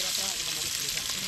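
Onions going into hot oil for frying Maggi sizzle steadily and evenly, a bright continuous hiss close to the microphone with no breaks or clear voices over it.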